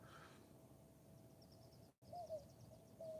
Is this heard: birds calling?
yes